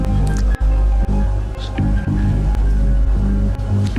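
Water trickles and splashes in a cave, a continuous wet squishing and dripping with irregular splashes throughout, fairly close and prominent.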